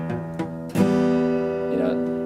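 A guitar chord strummed with fingers not pressed down hard enough on the strings, ringing out after a couple of light plucks with a slightly buzzy, muted sustain.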